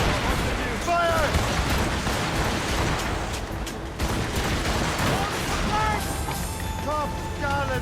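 Ship cannons boom in repeated volleys during an Assassin's Creed Rogue naval battle, a dense rumbling fusillade that fills the whole stretch, with shouted voices over the gunfire.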